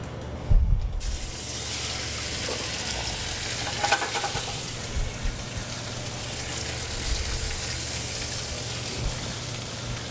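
Black drum fish fillet seasoned with salt and pepper searing in a hot pan, a loud crackling sizzle that bursts on contact and then settles into steady frying hiss.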